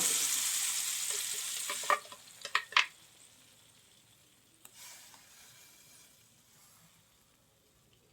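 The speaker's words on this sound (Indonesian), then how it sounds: "Di wadah lain kita sudah siapkan minyak secukupnya dan sudah dipanaskan untuk menumis bumbu yang sudah dihaluskan." Ground spice paste sautéing in hot oil for Padang-style cassava leaf curry: a steady sizzle fades, with several spoon scrapes and stirring knocks in the pan, then near silence.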